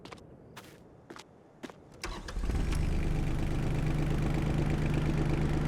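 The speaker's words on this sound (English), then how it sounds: "Let's check out our little mini compact tractor here" A compact tractor in Farming Simulator 22: a few clicks and footstep-like taps, then the engine cranks and settles into a steady, loud, close mid-pitched idle that continues to the end.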